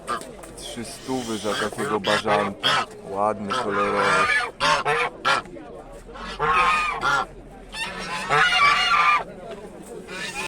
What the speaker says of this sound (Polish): Konkretna para gęsi za 4 paki.